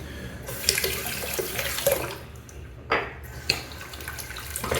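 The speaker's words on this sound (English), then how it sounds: "I'm gonna empty the sink here." Water full of lather and whiskers drains steadily from a sink after shaving, with gurgling and splashing, punctuated by a few brief knocks and clunks, close by and with no talking.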